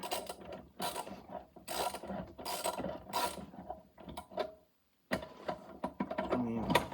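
Ratchet chasing threads on a bent engine stud of a Honda GX160 small engine, a busy run of rapid clicking and metallic grinding in close bursts, broken by a brief pause before the clicking resumes.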